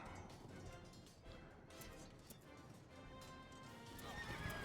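A horse neighs and whinnies amid clip-clopping hooves during a battle in the video game Fire & Maneuver, set under a dense, noisy mix of combat sounds and faint talk.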